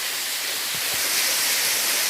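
Steady, dense roar of a waterfall inside a cave in Munnar, close and continuous with a faint low thump partway through.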